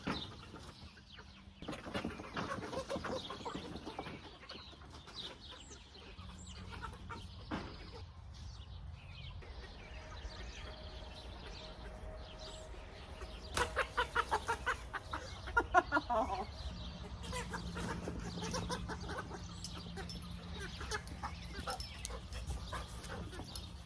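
Chickens cluck and squawk inside a chicken tractor on a homestead while a dog barks intermittently, with scattered speech, rattling movement noises, and a louder burst of flapping and clatter midway.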